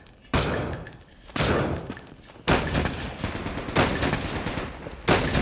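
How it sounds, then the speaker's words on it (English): Repeated gunfire from a mobile shooter video game, with five loud, sharp bursts at roughly one-second intervals, each followed by a sustained, noisy roar. "I'm repeatedly shooting him with this."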